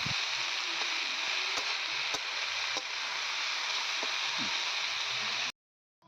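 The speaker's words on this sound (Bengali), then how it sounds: "পেঁয়াজ দিয়ে দিলাম আর কলমি শাকটাও আমি ভাজা করে নিচ্ছি" Water spinach (kolmi shak) frying with onion in a pan, a steady, even sizzle with occasional soft stirring clicks and taps, continuous and close until it cuts off abruptly near the end.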